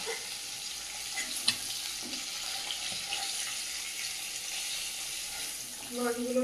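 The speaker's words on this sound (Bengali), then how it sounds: "মাছগুলো ভাজা হয়ে গেল।" Fish pieces fry in a pan in a home kitchen, a soft, even sizzle hissing steadily at low volume with a few small clicks and knocks.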